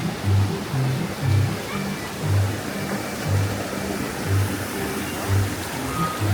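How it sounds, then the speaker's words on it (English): A waterfall at the entrance to Adventureland in Disneyland Paris rushes in a loud, continuous broadband roar, with low pulsing thuds and faint crowd noise mixed into the steady wash of falling water. "There's that waterfall I just showed you at the entrance."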